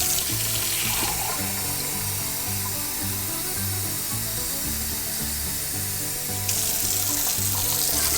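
Steady rush of water from a kitchen tap filling a pot for pressure canning cream corn, loud and continuous with a low rhythmic rumble underneath.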